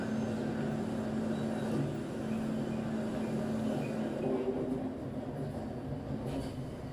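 A train passing nearby with a steady rumbling roar and rattle of rolling cars, holding constant, then easing slightly toward the end, with no talk.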